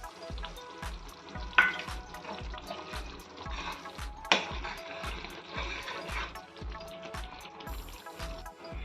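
Tomato curry (salan) simmers slowly on a low flame with soft, continuous bubbling and faint sizzling, quiet overall, broken by a couple of sharper clinks.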